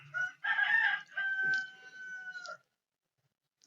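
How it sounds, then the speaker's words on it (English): A rooster crows in a paddock on a beef cattle farm in the afternoon, one long, loud, clear call with a sustained drawn-out tail, followed by silence. "That rooster's pretty keen at 4:30 in the afternoon."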